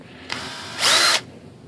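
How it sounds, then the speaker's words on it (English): Cordless power drill spinning during a radio setup for a Volantex Phoenix V2 2m RC glider build, with a short burst followed by a louder, steady whir lasting about half a second, close up and alone. "Take the drill, switch the direction."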